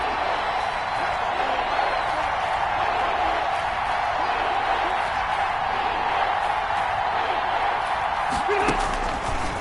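A crowd at an NFL football stadium roars in a steady, dense wash of noise during a Falcons versus Panthers game, sustained throughout with a faint voice near the end.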